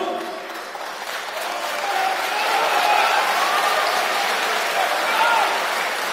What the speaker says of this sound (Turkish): Bir de alkışlıyor arkadaş.